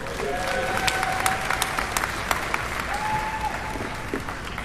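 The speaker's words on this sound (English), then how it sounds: "please give a big round of applause for Trayon White, our council member of Ward" Outdoor crowd applauding a council member at an arena topping-out ceremony, steady clapping with a few sharp individual claps standing out and brief whistles or cheers rising above it.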